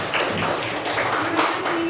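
A classroom audience claps for a student group after its presentation, a dense, close patter of many hands that rises and falls briefly.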